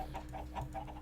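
Minecraft chickens clucking, a soft rhythmic series of short clucks repeating about five times a second over a low steady background hum.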